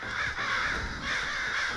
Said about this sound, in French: Comme vous entendez en arrière, les corneilles sont pas mal agitées.